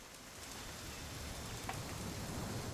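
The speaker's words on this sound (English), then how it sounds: "It's gonna rain the whole weekend, isn't it?" Steady rainfall in the video game What Remains of Edith Finch, a soft continuous patter that grows slightly heavier, with an occasional brief drip standing out and no one speaking.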